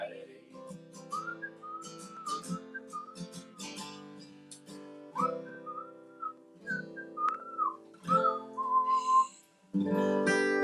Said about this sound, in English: That was a whistle off. That was a whistling son of a gun.